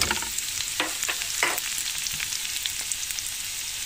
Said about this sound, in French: Là j'ai mis du beurre pour faire ma sauce. Les champignons ça aime bien le beurre, je balance mes oignons émincés